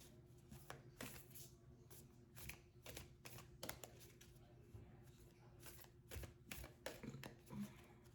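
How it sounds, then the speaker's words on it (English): Tarot cards are shuffled by hand in quick, uneven bursts of soft riffles and taps, faint and close, while a person speaks over them. "As I'm shuffling these cards,"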